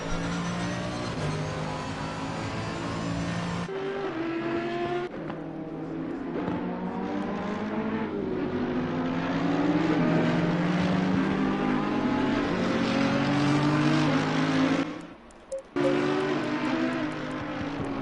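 NXTGEN race cars lap Oulton Park, engines droning and rising as they accelerate past at a distance, with pitch sweeps between gears and a brief drop near the end, no speech in between.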